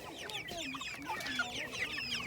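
Several farm chickens cluck in overlapping bursts, some calls sliding upward, all through the clip at moderate loudness, with steady barnyard background and no talking.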